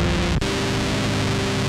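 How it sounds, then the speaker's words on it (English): Fuzzy gated distortion from the Plasma Coil plugin in Logic Pro X, a loud, dense crushed buzz that drops out for a split second before continuing steady and broken-up to the end. "I can go from really broken up, bitty, crushed, gated type fuzzy distortion, and degraded all the way through"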